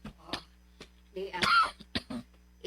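A person gives a rough, close cough partway through, with brief vocal sounds and quiet movement before and after.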